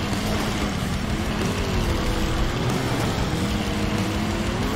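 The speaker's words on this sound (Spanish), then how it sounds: "este coche anda más que el Supra de Martin." A steady, loud car engine drone in the racing video game Trail Out, with a rising and falling pitch, like a car revving continuously through a race, with no talking.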